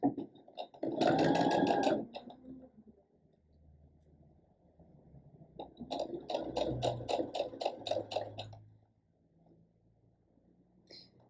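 A home sewing machine back stitching the start of a seam on a longline bra band, two close whirring runs with rapid needle ticking, the second longer and steadier, separated by quiet handling noise.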